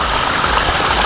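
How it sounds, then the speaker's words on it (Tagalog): A creek near the Agos river in the Sierra Madre area flows with a continuous, close, hissing babble of water, steady and unbroken through the whole short stretch. "Ito po yung sapa."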